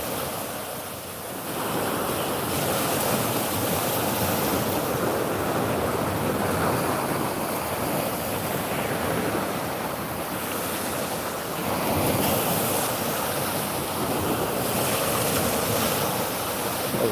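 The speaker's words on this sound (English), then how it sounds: "we got some waves crashing in" Ocean waves crashing continuously onto a rocky Florida shore at sunrise, a loud, steady surf roar with rolling swells and heavy wind noise across the microphone.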